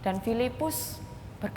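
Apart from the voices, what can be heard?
None of the usual background noises is heard.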